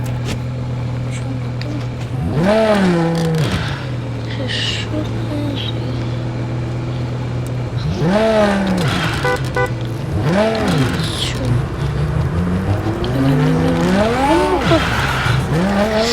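A Tofaş car races fast in a crash-themed car-building video game, with repeated loud tire squeals rising and falling in sweeping arcs over a steady engine drone, in several bursts across the stretch.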